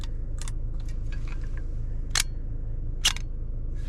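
Film SLR camera set to bulb mode firing its shutter, two sharp mechanical clacks about a second apart, close and crisp after a few faint handling clicks, over a low steady hum.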